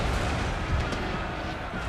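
Cannon artillery fire rumbles through a Total War battle set in the Thirty Years' War, a dense, continuous low roar of distant blasts with no clear separate shots and no talk.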